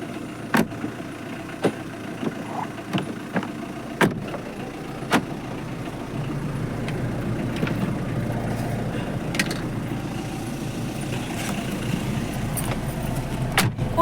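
A car engine idles steadily with a low continuous rumble, while sharp clicks and clunks of a car door being opened and handled stand out over the first few seconds, with no talk.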